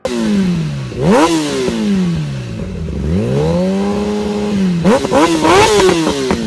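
Powerful 2019 motorcycle engine revving hard on a sound check, loud and close, with repeated throttle blips rising and falling in pitch, a long sweeping rev in the middle and quick sharp revs near the end, no talking.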